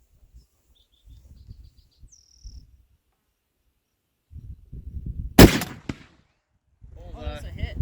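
A 20mm Lahti L-39 anti-tank rifle fires one sudden, very loud shot outdoors, surrounded by quiet moments and low, muffled voices before and after.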